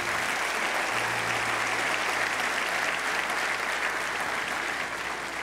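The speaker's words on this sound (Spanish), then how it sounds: "Dale un aplauso fuerte al Señor." Church congregation at a sermon clapping loudly and steadily, a dense continuous wash of applause from a large crowd with no pause.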